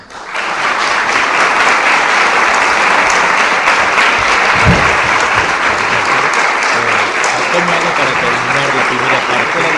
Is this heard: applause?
yes